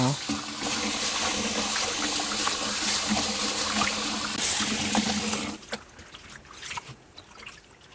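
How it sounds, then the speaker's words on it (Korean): Spinach leaves are gently swished and rinsed in a basin of water, making a continuous close sloshing and trickling that fades into softer, sparse splashes. "이러 갖고 세 번 정도만 살랑살랑 헹궈주세요"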